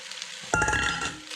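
Linguiça sausage drops into a pan of hot oil, a faint hiss jumping abruptly into a loud, close sizzle that crackles on and then gradually eases.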